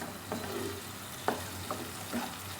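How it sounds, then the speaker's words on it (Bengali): Two eggs being stirred and scrambled in a frying pan, with a low steady sizzle broken by several sharp scraping strokes of the spatula at irregular intervals, close and moderately loud, with no talking. "এখন আমি এভাবে ডিম দুটিকে ঝুরি ভাজা করে নিচ্ছি"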